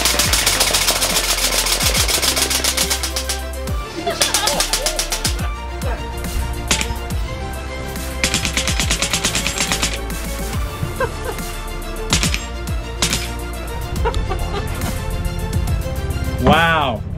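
LCS Air Arms SK-19 full-auto airgun emptying its 19-shot magazine, several loud bursts of rapid-fire rattling shots with short pauses between them, heard alongside voices and background sound.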